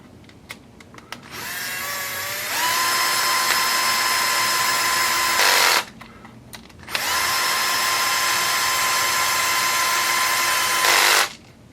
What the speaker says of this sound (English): Get these screwed in.